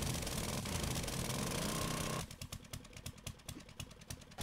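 A heavy-duty auger drilling through blocks in the survival game 7 Days to Die, a loud continuous motorized grinding that cuts out after about two seconds and gives way to short repeated bursts.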